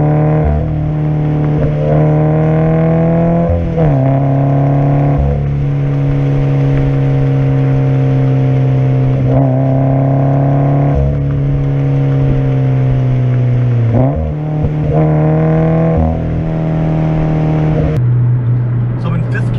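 A Subaru BRZ with an Invidia N1 exhaust and stage 1 tune cruising in fifth gear at around 60 mph, a loud steady low engine drone with a slight rise and dip in pitch throughout.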